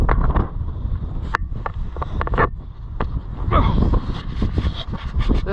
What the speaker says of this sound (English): This wind is nuts.